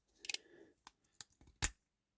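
Small metal pocket-knife scissors from a Soviet-era folding knife being handled, giving a few short, close metallic clicks and snips with brief pauses between them, alone in a quiet room.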